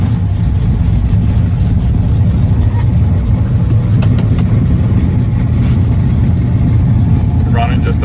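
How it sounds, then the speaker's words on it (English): A 1967 Chevelle SS with a 427 engine idles just under 1,000 RPM, a loud, steady low rumble with a lumpy throb that holds throughout. "Start up our 67 Chevelle SS with 427"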